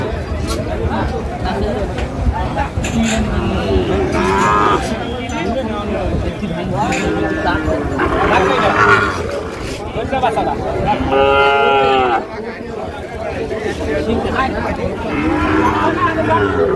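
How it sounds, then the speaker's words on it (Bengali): A Sahiwal calf at a cattle market moos repeatedly, loud and close, with several drawn-out calls rising over a busy background of chatter and crowd noise. "শাহিওয়ালার বাচ্চা"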